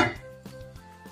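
A metal lid goes onto a pot of minestrone soup, a bright ringing clink followed by a few lighter taps and a fading metallic resonance, close and clear with no talk.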